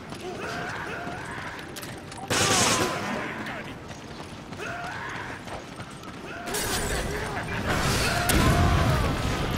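In the Resident Evil 5 Gold Edition Desperate Escape ending, several loud bursts of gunfire break through a steady wash of game noise as someone talks excitedly.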